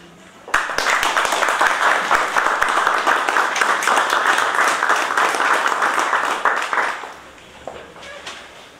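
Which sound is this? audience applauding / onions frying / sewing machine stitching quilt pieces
audience applauding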